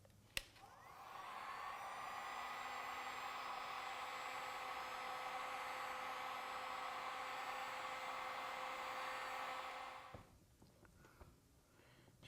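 A heat gun blows a steady, loud whooshing roar while warming a plastic car bumper for paintless dent repair, running unbroken for about ten seconds before cutting off with a click and faint handling noises.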